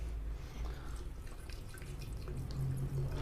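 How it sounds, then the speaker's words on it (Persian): Mint arak liquor is poured into a mixed drink with a soft, steady trickle and faint splashes, quiet and close, with no voices. "البته ما ارق نعنا میریزیم."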